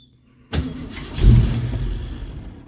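A Ford Mustang engine with a new QFT Slayer 750 carburetor cranks after a short silence and briefly catches, a loud close rumble that swells then fades.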